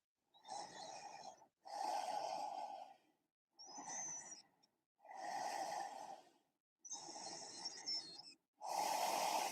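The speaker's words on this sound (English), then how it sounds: "Really exhaling, releasing, letting go." Deep, slow breaths out during a full-body yoga stretch, six long airy exhales with inhales in between, close and steady with quiet pauses.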